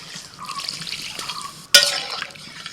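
Water poured into mustard spice paste while cooking a silver carp fish curry, a brief splashing pour with trickling and dripping, close and alone without voices.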